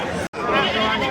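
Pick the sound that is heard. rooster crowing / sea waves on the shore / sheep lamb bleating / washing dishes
sheep lamb bleating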